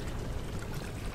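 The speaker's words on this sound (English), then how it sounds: "I like this water effect." A continuous wash of water from the Amnesia video game, a dense, steady rushing and pouring noise with no breaks, fairly soft and filling the whole short stretch.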